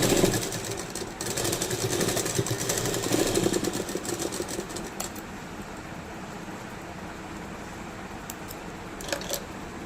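A sewing machine stitches over fabric while making a latkan tassel, a steady close mechanical whirr that is busiest at first and then eases off.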